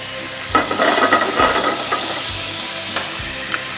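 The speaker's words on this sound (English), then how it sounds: "Now we're going to make a little bit of a pan sauce with a little bit of the butter that's left, a little garlic, deglaze with white wine." Butter and garlic sizzle in a pan for a steak pan sauce, deglazed with white wine, with steady frying hiss broken by several scraping stirs and a few clinks, close and moderately loud with no talking.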